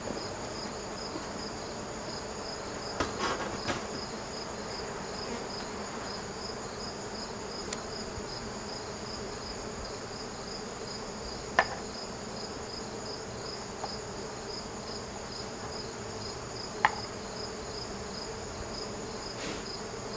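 Honey bees hum steadily around a hive during an inspection, a dense and constant buzz with a couple of faint clicks over it.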